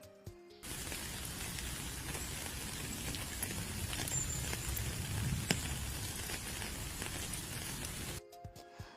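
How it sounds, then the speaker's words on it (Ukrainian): Steady rain played for preschool children, a dense continuous patter of drops on a surface with occasional louder splats, holding evenly for several seconds with no talk. "Так, це пісенька дощу, а дощ це коли з неба падає що? водичка."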